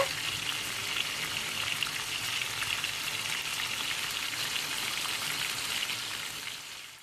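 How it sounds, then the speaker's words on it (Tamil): Oil sizzles and crackles steadily as chicken fries, a soft continuous hiss with tiny pops, close by and with no talk. "சிக்கன் ஃப்ரை நல்லா பொரிஞ்சதும் எடுத்துடுங்க"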